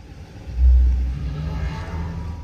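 A Mercedes-AMG EQE 53 electric car plays its synthetic start-up sound, a brief deep swelling rumble followed by a lower sustained hum inside the cabin.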